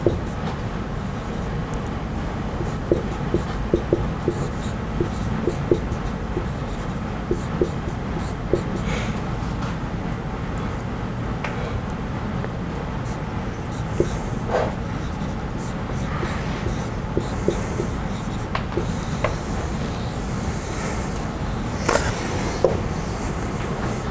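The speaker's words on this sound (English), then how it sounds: "I'll write that down over here." Chalk or marker writing on a board in a lecture hall during a stochastic control class, heard as a steady run of small scratchy taps and strokes over a constant room hum, with no talk.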